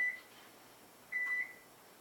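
A kitchen appliance timer emits two faint electronic beeps, a short one followed by a longer tone about a second later, while French breakfast bread bakes in a quiet room.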